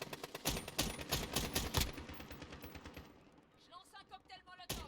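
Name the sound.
gunfire in the video game Warzone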